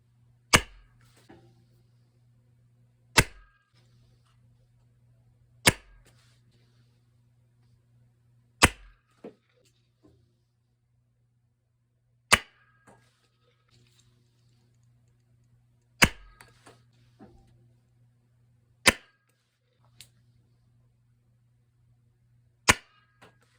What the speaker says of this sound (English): That was a firing demonstration of the 4-inch and 6-inch barrels of PVC